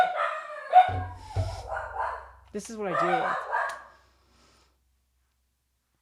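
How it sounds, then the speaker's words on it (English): A pet dog barks at a neighbor arriving home, with several short barks at moderate distance mixed in among a person talking indoors. "He's barking at my neighbor being home."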